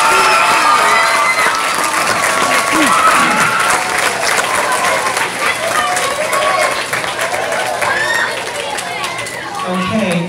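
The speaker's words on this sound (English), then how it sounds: "we can give them a big round of applause" An audience at a school spelling bee claps and cheers for the students, a loud, continuous wash of applause with children's shouts and chatter mixed in throughout.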